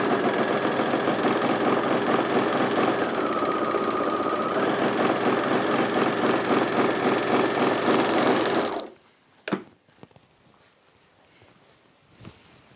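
A sewing machine runs steadily and loud while stitching the long bottom hem of a pair of Zen pants, then stops abruptly, leaving a few faint clicks and taps.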